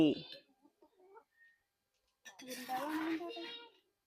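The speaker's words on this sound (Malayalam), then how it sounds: "കോഴി കോഴി" A chicken clucks a few times at close range, short harmonic calls at the start, then a gap, then a longer stretch of louder clucking or squawking with some kitchen clatter nearby.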